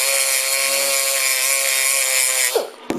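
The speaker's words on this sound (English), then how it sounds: "You can see the grinder got away from me just a little bit" A grinder working on a Weber carburetor from a Fiat 850: a loud, steady high-pitched whine that holds for over two seconds, then drops as the tool winds down, followed by a short sharp clack.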